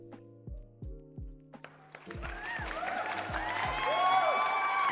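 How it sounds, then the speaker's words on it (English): A few sharp, tonal pings ring out. Then a swelling crowd applause effect builds and grows louder, mixed with whistle-like chirps, and it carries on without any talk. "Oh, we are applauding?"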